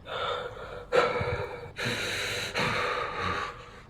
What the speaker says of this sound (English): with no words spoken, just heavy but slow breathing